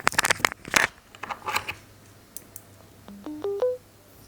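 A short burst of handling clicks and rustles, then four rising electronic beeps in quick succession, the clean stepped power-on chime of Bluetooth headphones.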